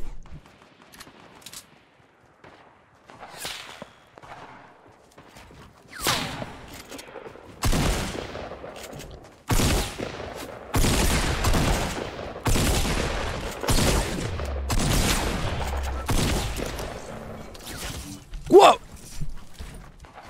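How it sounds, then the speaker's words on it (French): Sniper rifle gunfire in the Fortnite Battle Royale video game: loud cracking shots and bursts of gunfire come in clusters through the middle of the clip, with a sharp blast near the end, after a quieter start. "Il est en train de tirer au sniper."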